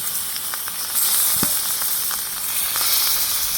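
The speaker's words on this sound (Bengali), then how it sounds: "মাছ এপিট ওপিট করে লাল করে ভেজে নেব।" Steady oil sizzle of rohu fish frying in a frying pan, a constant crackling hiss with occasional small pops, close and moderately loud, no voices.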